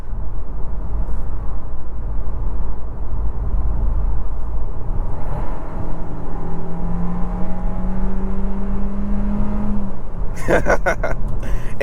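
A 2025 Kia Seltos SX AWD with a 1.6-litre turbo engine accelerates from inside the cabin, a steady low engine hum rising into a climbing whine, with brief clatter near the end.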